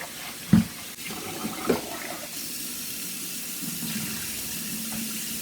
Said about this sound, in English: I'm going to show you how much I wash it before I cook it. Washing rice is a really important step.